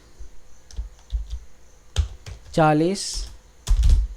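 Computer keyboard typing while entering a time value into an Excel spreadsheet, a few short key clicks spread across the moment with a voice speaking briefly over them, close and moderately loud.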